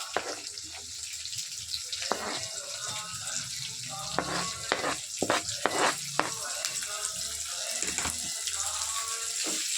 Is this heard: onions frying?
yes